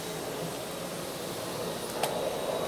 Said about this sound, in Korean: 청소기 소리가 싫어